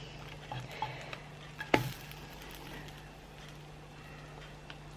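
Crumpets cooking in a pan on very low heat give a faint, soft sizzle under a low steady hum, with a single sharp knock or tap near the middle and a few small clicks.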